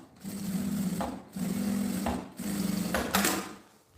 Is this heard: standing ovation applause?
no